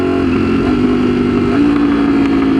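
A Ducati Streetfighter V4 with an aftermarket exhaust roars close by, its engine holding a loud, steady throaty drone with a slight shift in pitch midway, running alone with no talk.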